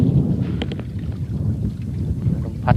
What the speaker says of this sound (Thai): ลมพัดแรงเท่าไหร่